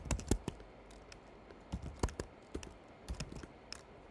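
Fingers type a chmod command on a computer keyboard, a near, clear run of uneven key clicks and taps with brief pauses, no voice over it.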